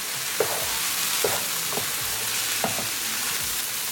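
Long beans and potatoes frying in a pan under a constant hiss, as a few scattered scrapes and knocks of a utensil mix them; nearby, with no voices.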